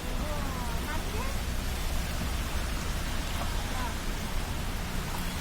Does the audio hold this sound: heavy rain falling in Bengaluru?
yes